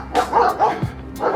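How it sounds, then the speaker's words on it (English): Several dogs bark loudly and close by in rapid yips and woofs, one after another in quick succession, during a marathon training run. "I'm also about to be eaten by some dogs."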